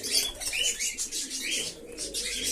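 Male fantail (lakka) pigeons at morning feeding on wheat, heard as a steady layer of soft chirps, coos and bursts of wing flapping close by, without any talk.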